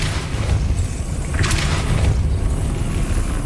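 A Depulso spell cast in the video game Hogwarts Legacy erupts as a single booming, whooshing burst about midway, rising over a steady low rumble of game ambience.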